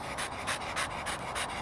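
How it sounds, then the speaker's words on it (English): A dog out on a walk pants in quick, even rhythm, about five close, breathy huffs with no other sounds. "we're taking the dog out for a walk."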